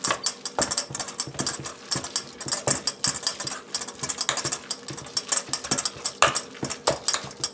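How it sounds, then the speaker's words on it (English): Spoon stirring a cheese layer with dried parsley in a bowl for lasagna, giving steady scraping and clinking close up, with repeated rhythmic strokes throughout and no talking. "And then just mix this up."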